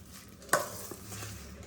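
Tamarind pickle paste being stirred with salt and turmeric, a single sharp scrape or clack followed by soft mixing sounds, close and alone.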